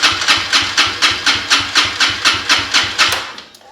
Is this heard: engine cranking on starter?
yes